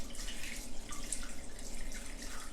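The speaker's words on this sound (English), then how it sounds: "then I'll pour it into our tray" Homemade bubble solution poured into a tray for dipping bubble wands: a steady, quiet trickle and splash of liquid that runs continuously for a few seconds, with no voices.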